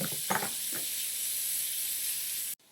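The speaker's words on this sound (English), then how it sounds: "And then I'm gonna add in the ground beef. And I'll let that brown up." Ground beef browns in a pan with an onion and shallot mixture, a steady close hiss and sizzle with a few brief clatters near the start, stopping abruptly at the end.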